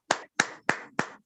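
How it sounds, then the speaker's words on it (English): Four sharp, evenly spaced claps from a single person in a virtual Toastmasters club meeting, each crisp and close, with brief silences between them and no talk. "You can use the clap emoji or just clap as I welcome him to the virtual lectern."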